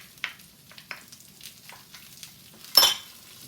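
Onion and garlic hit a pan of browning pasta over medium-high heat, giving a quiet sizzle with scattered spoon clinks and scrapes, then a louder scraping stir near the end, no talk.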